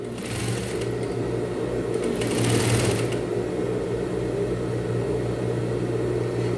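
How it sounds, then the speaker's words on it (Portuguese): A sewing machine runs steadily while stitching around a dress neckline, a close, continuous motor whir with a faint rapid needle chatter and no talk. "Então, eu costuro agora todo o contorno do meu decote."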